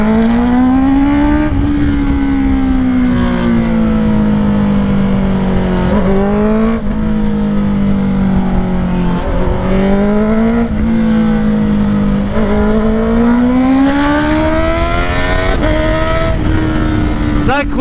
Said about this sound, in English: That quick shifter sound when it freaking pops sometimes is so insane.